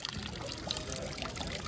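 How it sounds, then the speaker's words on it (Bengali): Water pours steadily from the mouth of a horse statue fountain in an outdoor city square in Belgium, a soft continuous splashing trickle heard up close with no voices. "ঘোড়ার মুখ থেকে পানি পড়ছে।"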